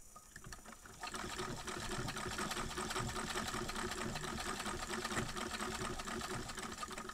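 A Singer sewing machine fitted with a non-cam zigzag attachment stitches tree bags, starting quietly then running steadily and loudly with a dense mechanical whir for about six seconds.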